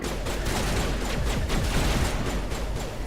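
Gunfire in the video game Mass Effect, a dense steady stream of rapid shots rattling continuously at close range.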